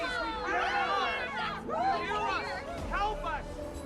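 A crowd gathered at an assembly in Honkai: Star Rail murmurs and calls out in a dense, continuous babble, with several raised voices rising and falling over the steady hum of the gathering.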